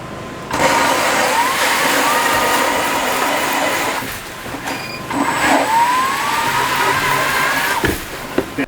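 A powered ice auger grinds through thick lake ice inside a Prairie Grit ice house with slush rising, a loud, steady motor drone that dips briefly midway, then resumes strongly.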